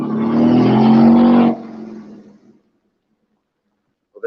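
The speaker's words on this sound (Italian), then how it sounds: "potete sentire il rombo del motore" A car engine roars close by at an auto and motorbike rally, a loud steady revving tone for about a second and a half before it cuts and fades into silence, with a brief sound at the very end.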